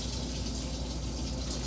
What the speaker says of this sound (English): let me wash this out